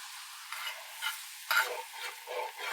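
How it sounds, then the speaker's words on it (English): A hot pan used for a Wagyu Denver steak is deglazed with cooked greens liquid, giving bursts of bright sizzling and steam-hiss with soft stirring scrapes, close and fairly loud, with no talk. "We're just looking to deglaze it."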